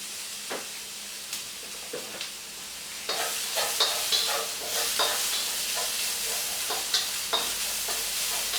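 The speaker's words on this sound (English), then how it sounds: "2 minutes of stir frying" Vegetables for a black bean tofu noodle bowl sizzle and hiss in a hot pan, with repeated scraping and tossing clatters from stirring, growing louder partway through.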